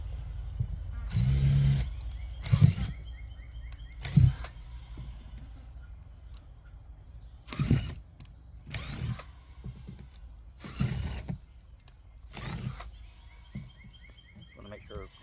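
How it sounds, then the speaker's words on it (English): An electric drill with a 1/2 inch wood bit bores drainage holes in a large planter, giving about seven short, loud whirring bursts separated by quiet pauses. "I gotta drill some holes in it for"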